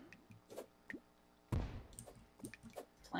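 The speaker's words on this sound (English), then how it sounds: "Man, that was a lot of water." Splashy water drips and squishy liquid plops from the Terraria video game, several brief irregular hits spread across the moment, with one louder burst in the middle, heard alone without talk.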